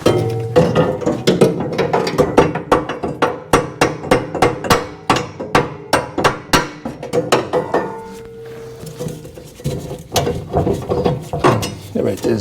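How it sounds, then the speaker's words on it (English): Repeated sharp metallic hammer taps, struck in quick rhythmic bursts with short pauses, close and loud, with clinking of metal parts, as wedged auger bearings are tapped out of a Honda HS928 snowblower. "take a hammer and tap them out because they're kind of wedged in there."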